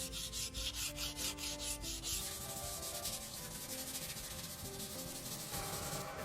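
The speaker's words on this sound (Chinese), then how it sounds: "他们用砂纸将整车从头到尾打磨一遍，把旧漆和顽固的锈迹彻底清除干净" Sandpaper scrubs steadily across a truck body to strip old paint and rust at a Pakistani repair shop, a continuous close rasping rub with rhythmic strokes and no talk.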